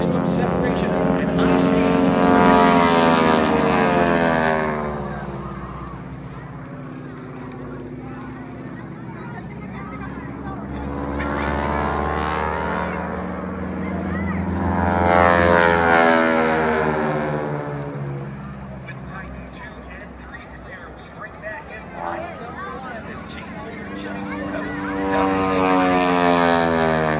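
Display jets at the 2024 New Jersey air show approach each other at minimum separation, their engine roar swelling and fading in repeated loud passes while a commentator talks over the noise.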